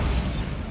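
A Bombarda explosion spell going off in the Hogwarts Legacy video game, a short, loud, low rumbling burst that fades quickly.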